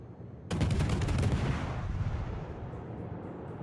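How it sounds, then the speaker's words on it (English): Incoming shell rounds in the naval video game World of Warships arrive as a sudden loud volley of overlapping booming impacts, rattling for about a second before a long rumbling fade. "Here come the rounds."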